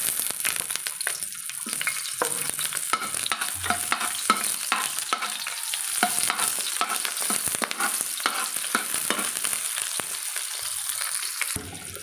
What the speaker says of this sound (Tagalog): Una kong igigisa ay onion.